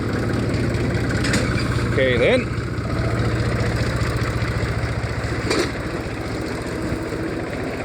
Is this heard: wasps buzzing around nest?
no